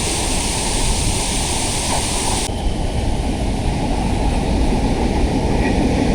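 The Madgaon–Diva train passes near the Ukshi Ranpat waterfall in the rain, a dense, loud, continuous roar and rumble filling the whole stretch, with a sudden shift in tone partway through and no speech.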